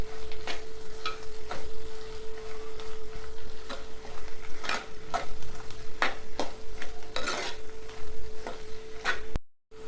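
Spoon stirring chili powder into egg vadiyala curry in a pan, with rhythmic scraping strokes over a constant low sizzle, close and fairly loud, no talk.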